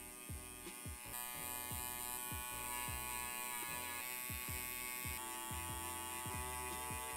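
Electric hair trimmer buzzing steadily and close during a low barber fade, a constant droning hum with faint rhythmic clicks as it works, and no talk.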